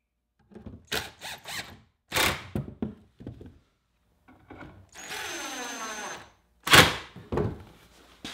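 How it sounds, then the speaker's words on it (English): An impact driver fitted with a Phillips bit, used in a tight spot near a cabinet drawer divider, gives several short bursts with clicks and thunks, then a longer whirring run and a final loud rattling burst. "I removed the tip of the Phillips head, and I'll put that into the impact driver."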